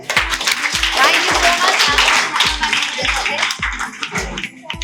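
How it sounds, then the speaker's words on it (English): Audience applause at a felicitation ceremony, a dense steady patter of many hands kept up for several seconds over a regular thumping music beat, with a voice briefly speaking near the end. "So clap for both of them"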